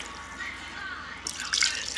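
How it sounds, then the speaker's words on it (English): Water is poured from a tap into a bowl that held seasonings for a London broil, a soft trickle that swells into a brighter splash near the end. "add some water"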